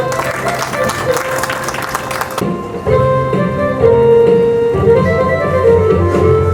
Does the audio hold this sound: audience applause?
yes